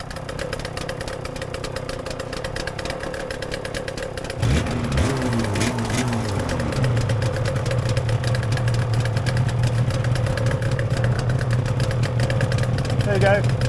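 A 1991 Yamaha TZR 250R and an RD two-stroke motorcycle engine run nearby, a steady buzzing idle that rises in level when the second engine starts. Voices speak briefly over it.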